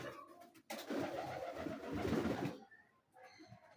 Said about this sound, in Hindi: बड़ा अड़ियल कबूतर है।